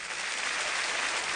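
Audience applause at an errenzhuan folk performance, a dense, even wash of clapping with no break.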